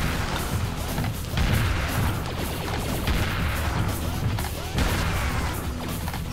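Dense, loud gunfire from Serious Sam HD, a continuous barrage of booming shots and crashing impacts rolling on with little pause and no talk.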